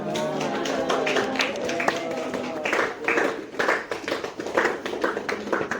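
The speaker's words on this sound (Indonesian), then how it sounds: "Wah, tadi tepuk tangannya dikeras banget ya waktu sini." An audience claps loudly after a group presentation, rapid irregular hand claps building in bursts, with some voices mixed in under the clapping.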